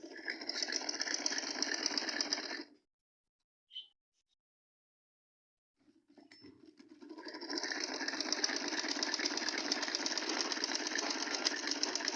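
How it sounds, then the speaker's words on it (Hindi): A sewing machine stitches the side seams of a baby boy's shirt, running in a fast, even whir, stopping for a few quiet seconds, then starting up again and running steadily to the end. "इसको ऐसे कमीज को दोनों आगे पीछे से पकड़ कर कंधों से साइड की सिलाई लगानी है।"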